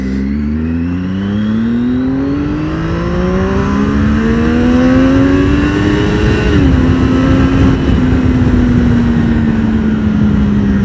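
A Triumph Daytona 675 sport motorcycle, 2006-2011 model, rides on an open road, its engine rising loudly in pitch through the revs before settling to a steady high drone, with no talk.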